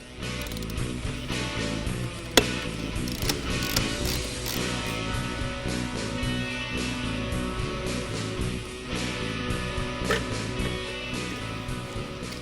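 A ratchet wrench clicks rapidly and continuously at close range while an EGR valve is unbolted on a 1996-2004 Ford Mustang. A sharp metallic tap is heard near the start, and no one speaks.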